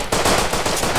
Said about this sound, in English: Are you guys in a gunfight? I hear it.